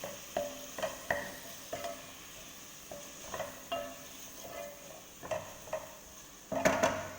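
Garlic and onion are stirred in a pan, with a utensil scraping and tapping the metal in an uneven rhythm of short strokes over a soft, steady sizzle, close up and clear.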